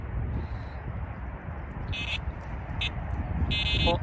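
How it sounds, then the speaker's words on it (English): A carp fishing bite alarm sounds electronic beeping tones in short bursts, a longer one, a brief blip, then another sustained one, over a steady low rumble of background noise, at a Cheshire mere in winter. "Thought my other alarm was going off then."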